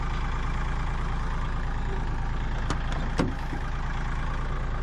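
A truck engine idles steadily and close by as a tractor is unloaded, a continuous low rumble with a couple of brief clanks and knocks partway through.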